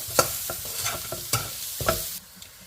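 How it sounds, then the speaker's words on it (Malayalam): Chili powder and crushed chilli are stirred and sautéed in a hot pan, giving a soft sizzle broken by several sharp spoon scrapes and knocks against the pan, close up with no voices. "നമുക്കിതെല്ലാം കൂടെ കൂടി ഒന്ന് വഴറ്റിയെടുക്കാം"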